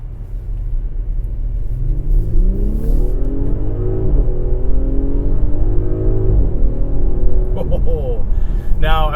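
A 2018 Audi SQ5 engine accelerates in a smooth, subdued rising sweep, climbing through gears with muted rumble, close and steady, with no talk.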